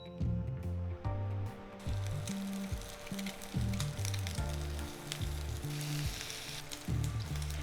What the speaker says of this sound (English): Sear the pork first.